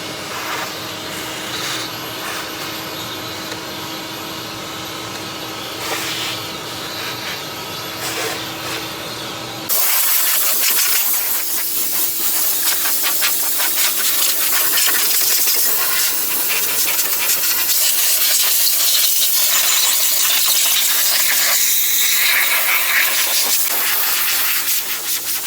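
A loud steady vacuum and compressed-air blowing noise works over debris and critter mess inside a Cub Cadet LTX 1045 hydrostatic riding mower, first a hissing stretch, then a louder, rougher roar with a low hum, running continuously without speech.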